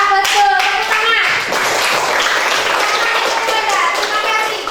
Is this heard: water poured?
no